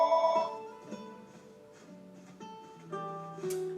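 A telephone rings in a room, a clear, tonal ringtone playing short repeated melodic notes at moderate volume with no talk over it.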